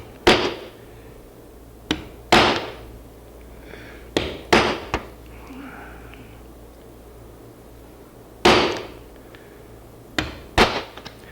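A hammer strikes a metal punch into wood laid over MDF, about ten sharp, close knocks in irregular clusters with quiet pauses between them.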